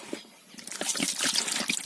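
Water pours into a cooking pot while preparing Filipino fish tinola with katambak, a continuous trickling splash that starts faintly and grows fuller and louder.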